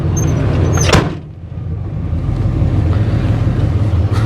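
An old car driven for the first time in 15 years, its knocking motor running and a loose door giving off a sharp clunk and rattle near the start, then a steady engine and road drone with wind noise.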